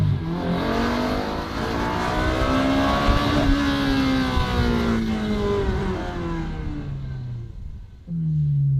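A Ferrari with an upgraded exhaust revs loudly and close, its engine note climbing and falling through smooth sweeps before a sharp rise again at the end.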